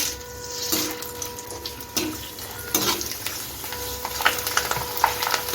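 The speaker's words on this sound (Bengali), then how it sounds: "দেখুন আমি আপনাদের কয়েকটা চিপস ভেজে দেখাচ্ছি" Potato chips frying in hot oil, a soft continuous bubbling sizzle with occasional clinks and stirring, quiet and close, with no talking.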